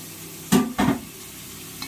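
Mint and spices for Ambur-style mutton biryani sauté in a hot pan, with two quick stirring scrapes bursting into loud sizzles over a softer, steady frying hiss, heard up close with no voices.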